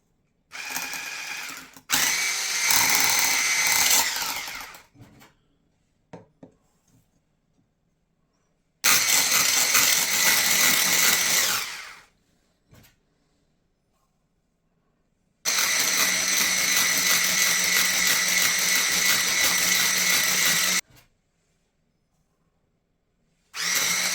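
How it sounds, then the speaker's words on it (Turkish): An electric mixer whisks an egg mixture for angel wing cookies as sugar goes in bit by bit, loud steady whirring in three long runs separated by pauses of near silence. "şekerimizi azar azar ekleyerek çırpmaya devam ediyoruz"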